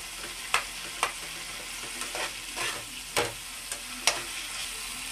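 Chopped tomatoes fry and sizzle in a pan over a high flame, with a steady hiss under a few sharp scrapes and taps from the stirring spoon, close and alone with no voices.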